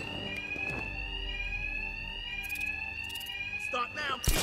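An alarm rings continuously in a Batman: Arkham Knight gameplay scene, a loud, shrill steady bell-like tone running throughout, with bursts of in-game noise and voices over it near the end.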